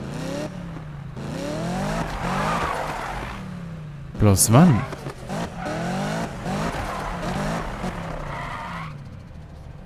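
A Corvette in the Need for Speed racing game revs and shifts with a brief tire squeal in the middle, heard under ongoing talking.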